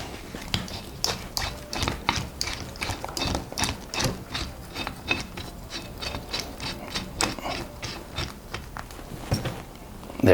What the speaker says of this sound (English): I'll screw this part into the base.